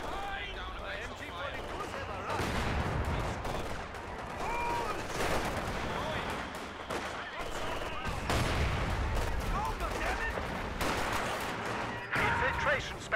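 MG42 machine gun fire in Company of Heroes 2 rattles in repeated bursts amid distant explosions and battle noise, with voices heard over the fighting.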